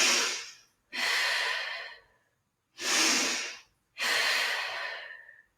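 Three strong, forceful exhales during an at-home strength training exercise, each one long and airy and close to the mic, separated by short quiet pauses, following a briefer breath at the start.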